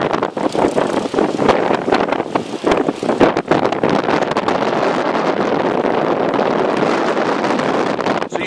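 Strong wind during a Maryland blizzard buffeting the microphone outdoors, a loud continuous rumbling roar with gusty bursts and flutter, steadier toward the end, with no talk.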